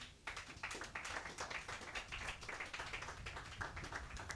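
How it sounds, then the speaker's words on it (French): Church congregation clapping in praise to the Lord at a French-language service, a dense, fairly quiet patter of many hands that starts abruptly and keeps going steadily with no voices over it. "donner une main d'acclamation au Seigneur"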